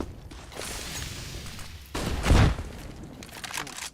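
Grenade explosion in a Counter-Strike match, a sharp low boom bursting out midway through a busy stretch of game noise and scattered impacts, with no voices.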